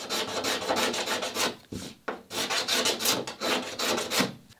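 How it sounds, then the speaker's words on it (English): A cabinet scraper works steadily over the wooden interior of a Catalina Wherry boat under construction, giving close, rhythmic rasping strokes with a brief pause midway. "In places where I've got scarves, I'm doing a little scraping too with just a cabinet scraper."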